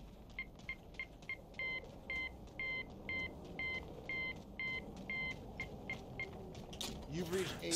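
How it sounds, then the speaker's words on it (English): Morse code beeps in the Call of Duty Zombies map Shaolin Shuffle: a long run of short electronic tones in an even, repeating rhythm, fairly quiet over low background game noise, ending with a brief burst of louder noise. "Now we gotta listen to the beeps for Morse code."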